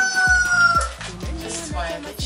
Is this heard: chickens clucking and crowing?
yes